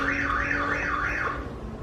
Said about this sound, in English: alarm's going off, my wife opened the back door